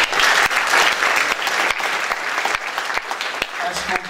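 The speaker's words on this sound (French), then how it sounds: "Est-ce qu'on peut l'applaudir parce qu'il est derrière" Audience applause at a foundation's excellence gala for the maestro behind the evening, a full hall clapping vigorously and steadily, sharp individual claps standing out in the close mix.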